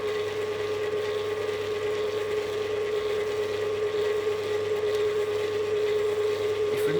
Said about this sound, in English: Make sure the machine is on speed 1, otherwise the flour will jump out of the bowl.